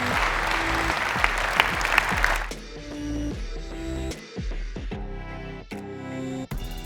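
Audience at an archery event applauding the champions Crispin Glennon and Brady Ellison, a dense burst of clapping that thins into scattered claps and cheers amid crowd noise.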